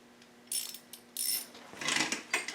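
A small quarter-inch ratchet clicks in short bursts during work on a WR426F engine, with separate quick runs of close, fairly quiet ratcheting and brief pauses between them.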